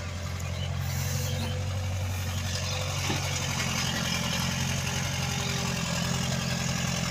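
A motorcycle engine running steadily at a construction site, a constant low rumbling drone held throughout at moderate loudness, with faint background noise.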